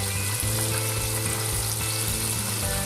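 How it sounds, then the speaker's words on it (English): Chicken chunks fry in hot oil with a steady, loud, bubbling sizzle that fills the whole stretch without pause, and no voices are heard. "I think we're going to fry them for the first time up to"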